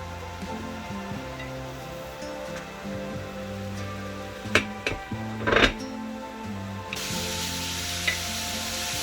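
Ground beef sizzling in a hot pan with spices such as paprika, turmeric, salt, pepper and dried onions, a steady low frying hiss with a few sharp clatters from stirring midway.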